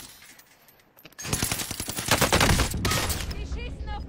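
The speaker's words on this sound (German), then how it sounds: "Die schießen auf mich." Video game gunfire bursts in sustained rapid automatic volleys after a quiet second, loud and dense, with faint sounds of play behind.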